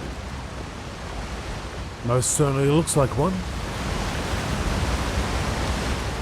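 A waterfall in Elder Scrolls Online gives a steady, broad rushing roar that runs through the whole stretch, fairly loud and close, while a voice briefly speaks over it near the middle.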